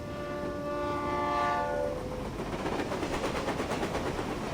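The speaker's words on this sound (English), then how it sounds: "And why is the stupid train never on time?" A train passes in the video game Reverse: 1999, its horn sounding loudly with a sustained harmonic blast before fading into steady rumbling and clacking of the moving cars.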